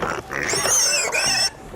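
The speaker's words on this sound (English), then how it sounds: "Here is a pig." A pig oinks and grunts loudly and close up in a run of harsh, squealing calls with short breaks between them.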